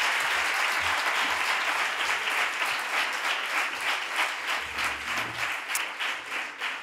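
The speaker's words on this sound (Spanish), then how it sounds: "Os pido un primer aplauso, que seguro que le vais a dar más" A conference audience gives sustained, crowded applause for the speaker El Langui; the clapping stays loud and continuous throughout with a faint low hum beneath.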